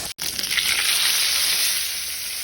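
Bitter gourd sautéing in leftover frying oil gives a steady, loud, close sizzle with a brief cut near the start, then continuous crackling hiss to the end.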